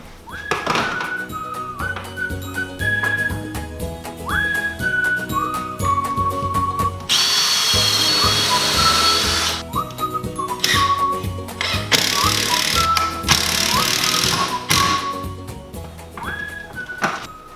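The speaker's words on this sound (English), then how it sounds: "We're going to put some pilot holes in there so that we don't split the wood." A power drill bores pilot holes into 2x4 wood for 3-inch screws, its whine rising and falling through several runs, with a long loud burst of grinding as the bit bites in, close and alone.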